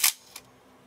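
A Sinar DB automatic Copal shutter on a large-format camera snaps shut with a sharp mechanical click, followed by a fainter second click a moment later, close and isolated.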